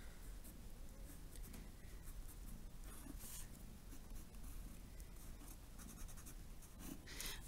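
A pen or pencil scratches across paper while two figures are sketched, soft irregular strokes and faint scraping that are very quiet and close, with no talking.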